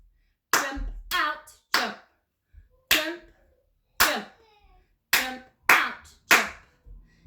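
Hands clap a rhythm for young children in a Royal Academy of Dance pre-primary ballet class: eight sharp, close claps in short uneven groups separated by silent gaps, with no talking.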